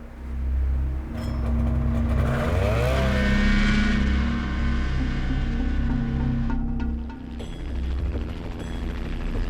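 A police helicopter approaches a remote Alaskan airstrip, a loud, steady rotor and engine drone with low throbbing tones that swells and shifts in pitch as it draws nearer, with no voices.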